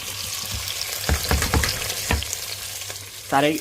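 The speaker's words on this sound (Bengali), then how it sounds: "তো আমি এগুলো এখন আমি তেল হচ্ছে গরম করে নিয়েছি। তো এখন আমি এখানে পেঁয়াজগুলো দিয়ে দিব" Chopped onions dropped into hot oil seasoned with garlic and cumin, a loud close sizzle with several sharp clattering bursts as they hit the pan and get stirred, ending in a short squeaky scrape.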